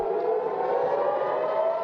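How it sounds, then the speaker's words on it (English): Civil defense air raid sirens wail across southern Israel during overnight rocket fire from Gaza, a steady loud sustained tone. "Sirens blare across southern Israel overnight"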